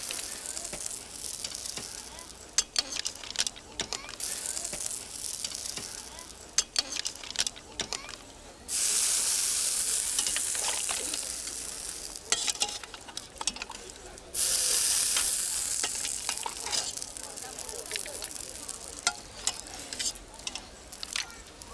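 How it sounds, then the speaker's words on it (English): Scallops and mussels sizzle steadily in a hot pan, a continuous crackling hiss with two louder, brighter bursts of frying partway through, heard close and without talk. "to make it easier for you, Vlad, we'll place our scallops. We'll also add some mussels"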